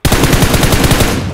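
Automatic weapon fire in the mobile battle royale game BGMI played on an iPhone 11, a loud, close, rapid burst of evenly spaced shots lasting just over a second with no talk.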